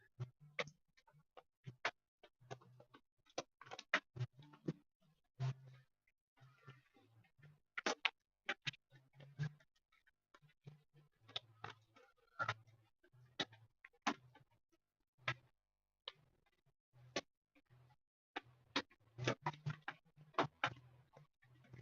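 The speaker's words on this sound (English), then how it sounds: "That's rain on the plastic roof." Rain falling on a plastic greenhouse roof, heard as scattered, irregular taps and patters in a quiet space, some louder drops standing out, with no voices.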